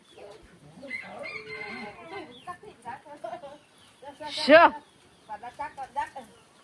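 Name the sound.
chickens clucking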